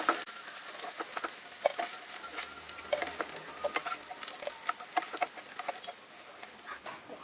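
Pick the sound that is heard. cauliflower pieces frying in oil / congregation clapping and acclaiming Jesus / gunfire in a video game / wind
cauliflower pieces frying in oil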